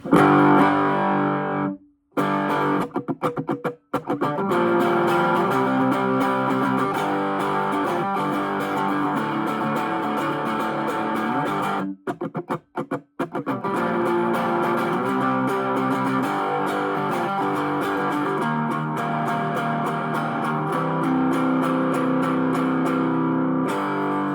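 A cigar box guitar with humbucker and piezo pickups plays a twangy, overdriven riff with no effects or reverb, close and loud, with a couple of brief pauses between phrases.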